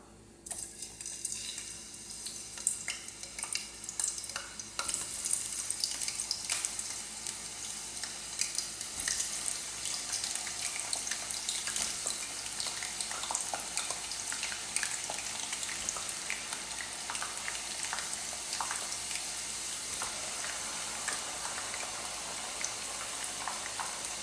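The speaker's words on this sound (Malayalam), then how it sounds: "എണ്ണ നല്ല ചൂടായി വന്നിട്ടുണ്ട് ഇനി നമുക്ക് നമ്മൾ ഫ്രഞ്ച് ഫ്രൈസ് ഇതിലേക്ക് ആഡ് ചെയ്ത് കൊടുക്കാം" French fries frying in hot oil as a continuous, fairly quiet crackling sizzle that starts after a brief moment and holds steady, with no talk over it.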